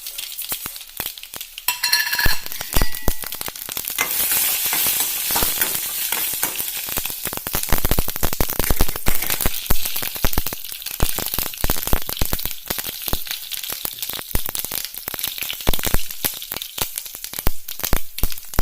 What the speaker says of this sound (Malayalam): കടുക്, ഉലുവ, വറ്റൽമുളക് ഇതെല്ലാം അതിലേക്കിട്ട് കൊടുക്കാം, താളിക്കാം.